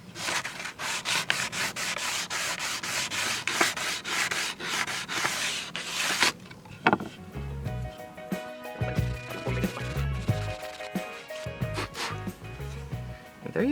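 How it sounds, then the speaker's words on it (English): Salvaged redwood is rubbed with 220 grit sandpaper in quick, close strokes for several seconds, followed by quieter scattered handling and knocking sounds. "And then we'll just pass that over with a little more 220 grit."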